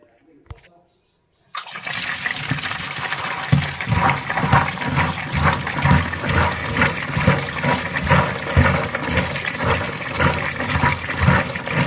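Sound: washing vegetables in water

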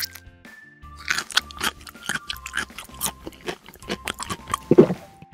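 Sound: crunchy green broccoli being bitten and chewed

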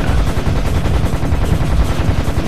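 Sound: gunfire in video game Serious Sam HD

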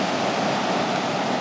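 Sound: ocean waves on a Puerto Rico beach

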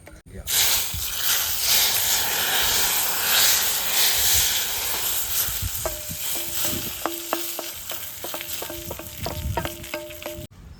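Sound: sizzling tempering with curry leaves poured into sambar

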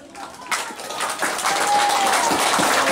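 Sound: applause

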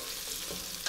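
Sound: onions caramelizing in avocado oil over medium flame

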